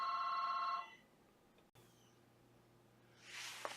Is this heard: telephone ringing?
yes